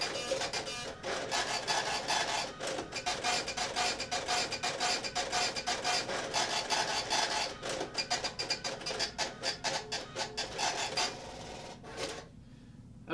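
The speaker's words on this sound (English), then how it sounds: "it's gonna print both the receipt and the kitchen ticket at the same time" Epson U220 impact and T88V thermal receipt printers run together on a receipt and a kitchen ticket, giving a fast, raspy, rattling buzz of dense clicks for about twelve seconds before stopping abruptly.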